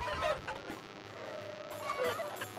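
A large flock of chickens in the video game TABS clucks continuously, the bursts of clucking rising and falling at moderate loudness with no talking.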